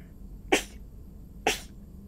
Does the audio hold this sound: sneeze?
yes